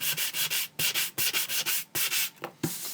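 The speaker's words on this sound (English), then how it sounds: "when you start to use a sanding block, you sand back through all the layers" A sanding block rubs back painted layers on a craft heart in rapid, rhythmic rasping strokes, close and clear, with short pauses between bursts.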